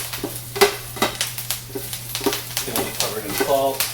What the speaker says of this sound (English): And then just stir this up. I'm coating the kale in the oil.